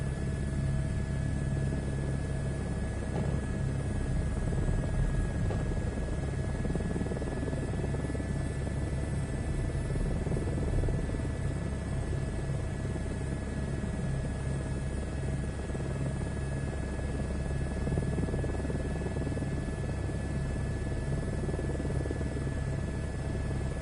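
Helicopter in Microsoft Flight Simulator 2024 on PS5 taking off for a search and rescue flight, a steady loud rotor and turbine drone with constant whine running unbroken throughout, no talk.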